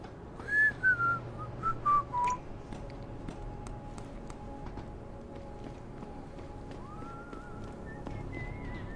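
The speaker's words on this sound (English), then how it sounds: "Very nice whistling there, buddy." A character whistles a short rising-and-falling tune in Deus Ex: Human Revolution, several clear notes in the first couple of seconds over a low game ambience, with a faint tone returning near the end.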